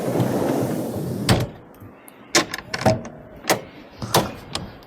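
TITON drawers slide out from beneath the tray of a 2020 Toyota Hilux SR5, first a rolling rumble and then a string of sharp clunks and knocks that are separate and close.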